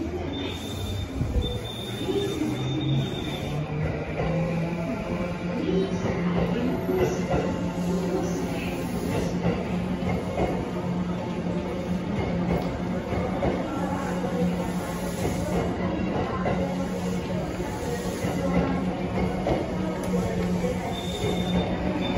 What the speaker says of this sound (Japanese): 3番線発車します。